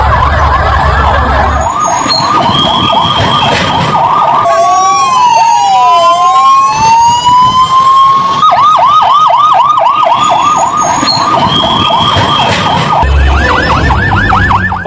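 Fire brigade vehicles race to a plane crash site in Ahmedabad, their sirens blaring loud and close in rapid yelping cycles that switch to slower wails and overlap one another continuously.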